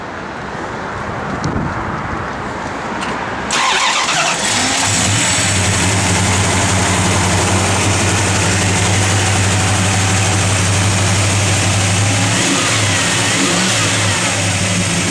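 A 1970 Plymouth Duster with a 340 V8 engine cranks and fires up, then settles into a loud, close, rumbling idle with a steady low throb and brief rises in revs.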